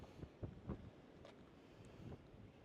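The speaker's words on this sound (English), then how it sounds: "it's very windy out here today" Gusty wind buffets the microphone outdoors with low rumbling bursts, strongest in a few early gusts, then a steady, fainter rush; no one speaks.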